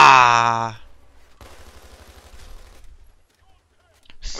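Gunfire in the video game Titanfall comes as a rapid burst of automatic shots lasting a second or so, preceded by a brief loud shout and followed by quiet.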